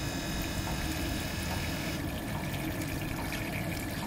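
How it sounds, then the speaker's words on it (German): Waste water draining from a camper van's holding tank, a steady rushing, trickling flow heard close up and continuing without pause, with no talk over it. "Und jetzt können wir einfach drüber fahren, Knopf drücken, Wasser rauslassen."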